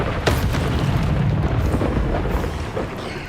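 The Incendio fire spell in Hogwarts Legacy erupts with a loud, deep whooshing roar and a fiery burst, a dense low rumble that fills the short clip and fades slightly at the end.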